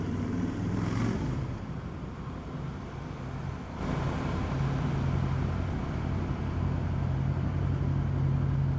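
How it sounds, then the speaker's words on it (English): A Honda Shadow Aero 750 fitted with TJ Brutal drag pipes rumbles in a parking garage, a deep loud idle with a swell of revving near the start and a reverberant, enclosed echo, steady throughout. "Get the sound and the reverberations of the TJ Brutal Drag Pipes on my Honda Shadow Aero 750"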